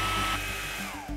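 A hair dryer blows air at a balloon with a steady, loud, close whirring rush that holds for about a second.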